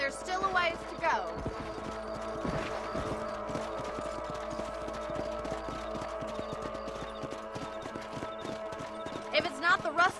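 Horse hooves clip-clop at a steady walking rhythm throughout a ride on a farm property in Red Dead Redemption, with a soft ambient backdrop and voices cutting in near the start and end.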